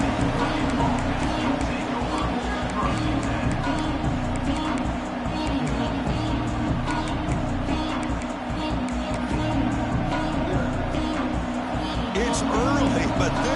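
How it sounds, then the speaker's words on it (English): A fired-up crowd at a Purdue versus Oregon college football stadium keeps up a loud, steady roar of many voices that never drops away, broad and distant-sounding. "this crowd is fired up. Listen to this noise here."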